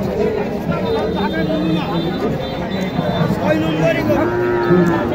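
A Sahiwal cow lows at a busy cattle market, its deep moo rising over a dense murmur of voices and livestock noise that continues throughout.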